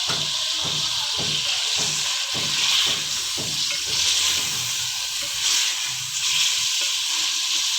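Garlic ginger paste, about two tablespoons, sizzles steadily in hot oil for chicken karahi, with a continuous bright hiss and regular scraping strokes of a spoon through the first half, then softer stirring.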